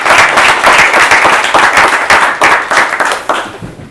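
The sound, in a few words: audience applause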